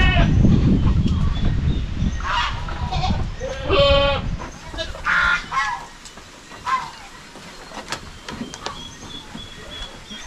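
A goat on a farm bleats several times in quick succession early on, close and fairly loud, then a few fainter calls follow over scattered farmyard noise.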